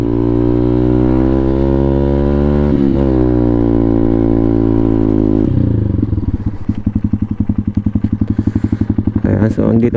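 A scooter engine drones steadily at close range while riding on a bypass road, its pitch dipping briefly, then dropping into a lower, rougher gear with rapid rhythmic pulsing and clatter.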